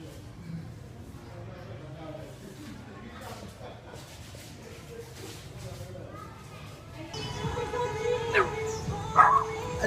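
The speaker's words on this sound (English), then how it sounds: "The cutest dog." Street dog at a temple yelping and whimpering in a busy outdoor scene, with bright high yips near the end rising over background chatter and crowd noise; people talk throughout.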